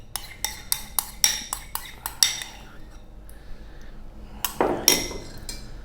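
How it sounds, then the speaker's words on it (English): Yogurt is whisked into beef feet soup (paya) in a metal bowl, a quick run of sharp clinking whisk strokes, then a pause and another burst of rapid metallic taps, close and clear with no talk. "Then again, we're going to whisk."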